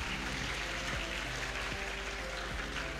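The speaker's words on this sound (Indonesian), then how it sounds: "tepuk tangan untuk Mbak Atifah" An audience at a school Ramadan boarding program claps continuously, a dense steady patter of many hands filling the room throughout, with faint background murmurs.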